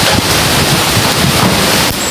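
Strong wind roaring steadily and loud close to the microphone, a dense, buffeting rush with no pauses and no voices.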